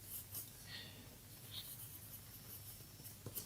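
Pen or pencil writing an answer on paper during a maths exam worked solution, a faint, close, soft scratching with small taps, quiet and alone.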